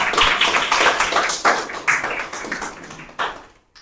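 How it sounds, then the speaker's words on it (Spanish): An audience applauds to welcome a guest speaker, a public management specialist, at a talk: a round of fairly close hand claps with uneven rhythmic bursts that thins out and fades to quiet at the end. "Tenemos al doctor Marco Murrieta, para quien pido un fuerte aplauso."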